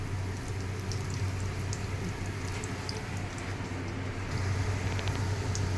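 Jackfruit koftas frying in oil over a medium flame, a quiet, steady bubbling sizzle with small pops, continuous and fairly close, with no voices.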